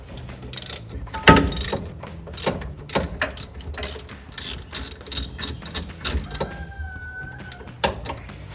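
A ratchet wrench tightens the lower bolt on a Jeep Wrangler TJ rear upper control arm, making bursts of rapid clicking strokes with short pauses between them, close and clear, plus a brief squeaky tone.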